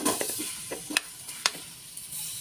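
Ginger, onion and tomato stirred in a little oil in a pan, soft sizzling under a few scraping stirs and light clinks, close and moderately quiet.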